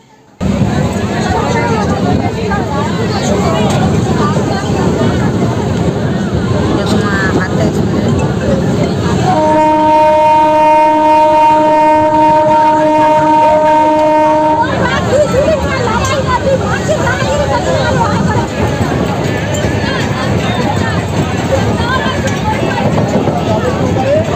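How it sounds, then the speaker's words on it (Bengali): A crowded Canning local train runs from New Garia station, with dense passenger chatter over a steady rolling rumble and a long, sustained horn-like tone partway through. "তারপরে উঠে পড়লাম ক্যানিং ট্রেনেতে"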